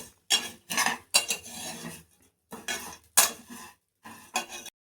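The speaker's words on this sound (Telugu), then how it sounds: "ఇప్పుడు గోల్డెన్ బ్రౌన్ వచ్చే వరకు రోస్ట్ చేసుకోవాలి" Vermicelli (semiya) is roasted and stirred in a pan, a metal spoon scraping and clinking in distinct bursts of a few strokes each, close and fairly quiet, with no talk.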